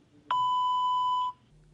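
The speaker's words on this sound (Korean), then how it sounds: "전원이 꺼져 있어 삐 소리 후 소리샘으로 연결되어오며 통화료가 부과됩니다" A single steady electronic beep lasting about a second, loud and clean, marks the voicemail prompt on a switched-off mobile phone, with quiet line hiss before and after.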